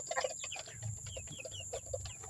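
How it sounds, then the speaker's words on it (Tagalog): Chickens cluck and chirp in a small, crowded backyard coop, a busy run of short, overlapping calls at close range over a faint steady hum. "Nandito ako sa kulungan ko ng aking manok."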